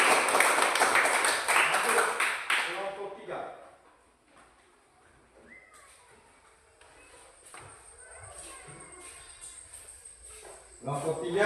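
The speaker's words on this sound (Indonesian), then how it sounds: "Tepuk tangan untuk kelompok 2." A classroom of students claps briefly for a presenting group, a short burst of close clapping at the start before fading into quiet room sounds and scattered taps, with a little more clapping at the end.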